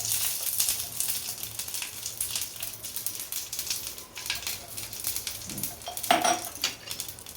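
Metal spoon scraping and clinking in a pan while tomato chutney with mustard and turmeric is stirred, a steady close run of busy scrapes and taps with a brief louder clatter near the end.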